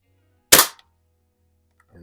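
One sharp air-rifle pellet shot fired at a can, a single loud crack with a short tail and then quiet, followed by a faint rustle at the end.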